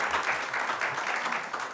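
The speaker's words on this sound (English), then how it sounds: "Round of applause" A studio audience at a televised lottery draw gives a brief, even round of applause, moderately quiet and sustained without breaks.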